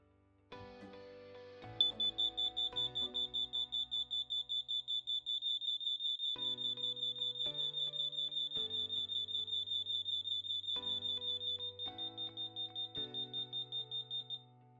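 LINKD CORE range interlinked smoke alarms sound together during a button test, giving a loud, steady high-pitched tone over a pulsing sequence of lower beeps that repeats rhythmically for most of the stretch.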